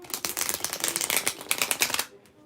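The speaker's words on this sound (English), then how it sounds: "let's go ahead and shuffle these cards" A Druid Craft tarot deck being shuffled by hand, a rapid run of papery riffles and flutters lasting about two seconds before cutting to near silence, close and fairly loud with no talking.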